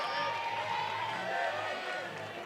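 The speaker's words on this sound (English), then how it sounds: "And the French crowd really getting behind Helene here" A French crowd at a climbing lead semi-final in Chamonix cheers and shouts steadily for the climber Helene, a distant, sustained roar with whoops, heard under continuous commentary.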